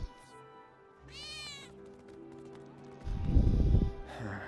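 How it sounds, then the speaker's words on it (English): A cat meows in a back alley in Final Fantasy 7 Remake, one clear drawn-out meow amid soft game ambience, then a burst of low rumbling noise and a second short cry near the end. "That was definitely a cat."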